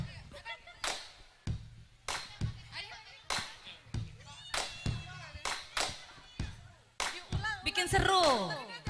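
Audience at a school event against sexual violence, bullying and intolerance claps in several short, rhythmic bursts between pauses, with talking and a final louder, fuller round of applause.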